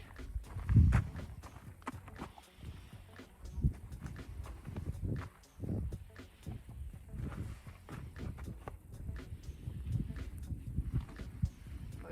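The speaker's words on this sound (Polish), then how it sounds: "Następny koń" A horse walks with steady, irregular clip-clopping hooves at close range, outdoors with light wind, the hoofbeats rising and falling in loudness with no talk.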